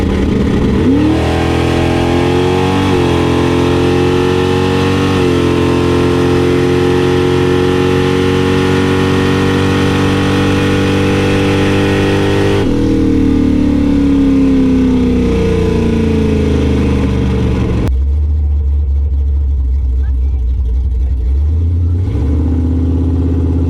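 A turbocharged LS-swapped wagon launches down a drag strip with a loud, close engine roar that climbs in pitch through several gear changes, then eases off near the end as the note fades into a lower rumble.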